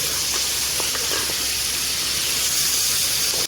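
Beef paya frying in a pan with turmeric, a steady close hiss and sizzle running evenly throughout with no talk.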